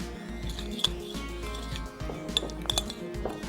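Ground cumin and lemon juice being stirred together in a glass for a cooler punch: a spoon scrapes and taps around the inside, with a few sharp clinks against the glass scattered over several seconds.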